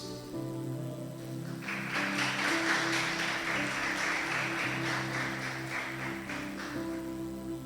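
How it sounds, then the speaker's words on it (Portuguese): A church congregation claps through most of the stretch in a steady, dense patter, layered over sustained keyboard or organ chords that hold underneath. "Palmas para Jesus."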